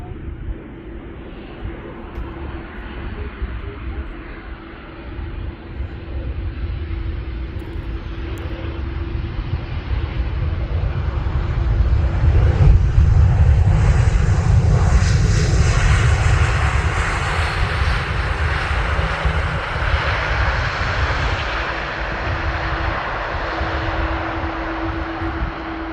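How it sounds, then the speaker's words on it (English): A Transavia Boeing 737-800 airliner arriving from Italy lands on Amsterdam's Polderbaan runway with a steady jet roar that swells to a loud peak midway and then eases off, heard from outdoors without any talk. "Transavia 737-800 from Italy."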